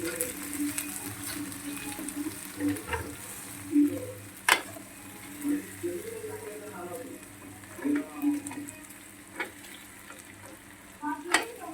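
Cooked pasta is stirred gently in a pan with a light sizzle underneath, soft scraping and clicking strokes repeating irregularly, with occasional sharper knocks and some quiet talk.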